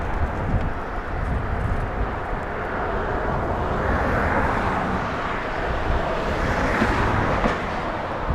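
An All Nippon Airways airliner bound for Tokyo at Los Angeles International Airport gives off a steady, loud broadband roar that holds evenly throughout, with no talk over it.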